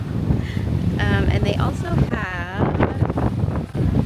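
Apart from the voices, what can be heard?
wind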